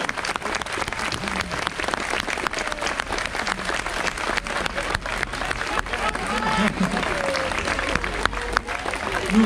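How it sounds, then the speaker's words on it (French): A crowd claps steadily and enthusiastically for several seconds, a dense wash of applause with some voices mixed in, at a Breton Celtic circle dance show in La Forêt-Fouesnant. "On vous applaudit bien fort."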